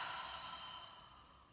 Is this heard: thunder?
no